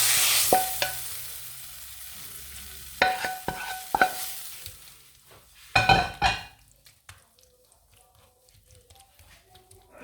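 Sliced courgettes sizzle in a hot frying pan while a utensil stirs them, with sharp scrapes and clinks against the pan that come in bursts before the frying settles into a softer hiss.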